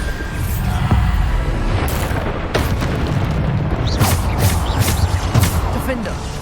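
Bombarda blasting spell from Hogwarts Legacy, cast repeatedly in a fight: several booming bursts and sharp impacts pop through a dense din of combat, under a voice talking loudly.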